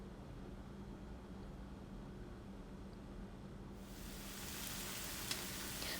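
White onion and chicken fry in a pan, a faint steady sizzle that swells into a brighter, louder hiss partway through, heard close with no talking.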